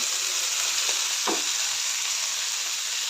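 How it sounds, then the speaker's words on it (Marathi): Chopped fenugreek leaves fry with onion, garlic and tomato for dhaba-style lasuni methi, giving a loud, steady, close sizzle with a couple of brief stirring scrapes and no talking. "कांदा लसूण टोमॅटो चांगलं भाजलेलं आहे आता ह्यामध्ये मी बारीक चिरलेली मेथी घालते"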